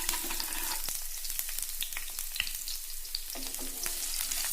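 Garlic sautéing in three teaspoons of hot Ruchi Gold oil in a pan for egg roast masala, a steady crackling sizzle with scattered pops and light spoon stirring, close and continuous with no talk.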